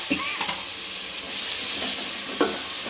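Garlic and ginger sizzle in hot oil for a Chettinad crab curry, a constant close hiss broken by a few clinks and scrapes of stirring.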